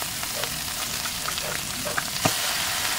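Pure Foods corned beef frying in a pan, giving a steady close sizzle dotted with small crackles and pops.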